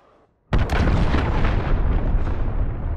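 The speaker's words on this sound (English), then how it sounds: "Allied cruise missile launched." A cruise missile strike in Call of Duty: Modern Warfare lands after a brief quiet moment as one sudden, loud, close explosion, followed by a dense rolling roar that holds for several seconds.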